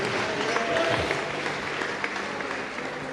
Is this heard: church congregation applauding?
yes